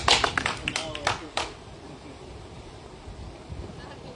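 A short burst of hand clapping from a small group rings out outdoors over steady wind noise, then fades into wind and speech.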